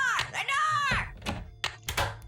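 A door in the video game Curse of Blackmoor Manor makes a solid thunk, followed by a few dull knocks and taps, with a voice briefly heard at the start.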